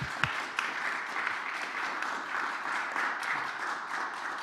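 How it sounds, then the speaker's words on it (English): A conference audience at a nuclear financing event in Warsaw applauds the panelists, with steady, moderately distant clapping sustained throughout and a few louder individual claps near the start. "I think they all deserve a round of applause."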